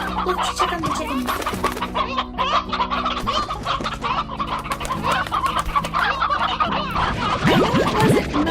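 Chickens in the Slime Rancher video game cluck loudly and continuously, with many overlapping calls close up.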